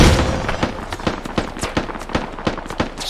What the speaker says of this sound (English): So maybe the armor of the MRAP saving it there, or that may have been a frag round